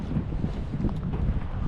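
Gusty wind buffets the microphone outdoors while fishing, a dense rumbling roar filling the whole stretch with no voices.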